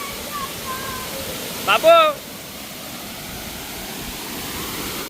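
Broad, steady rushing of a monsoon-swollen waterfall in Talavade, Devgad, a continuous loud hiss of falling water, with a brief spoken call rising above it partway through.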